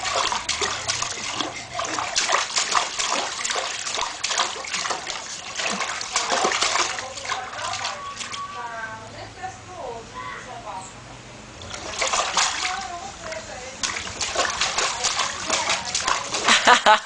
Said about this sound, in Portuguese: Ele tá batendo na água aí, mano.